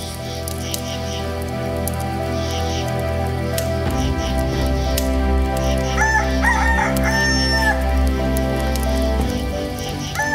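A rooster's cock-a-doodle-doo crows as a sound effect in a bilingual Good Friday skit, playing loudly over a steady musical backing with repeated crowing calls in the middle of the clip.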